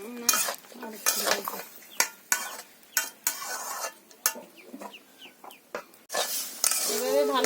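Pumpkin curry being stirred and sautéed in a pan in a village kitchen, with a spoon scraping and clinking against the pan in irregular bursts, while chickens cluck nearby.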